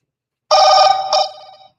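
An outgoing phone call rings back through a speaker, one loud electronic ring tone starting sharply, briefly restarting, then fading out, heard alone with no talk.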